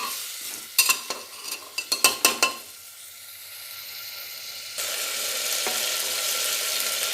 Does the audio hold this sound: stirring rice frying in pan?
yes